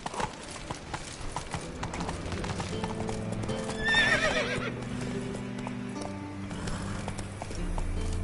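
The horse Roach galloping in The Witcher 3, rapid rhythmic hoofbeats with a neigh partway through, game music underneath and no talk.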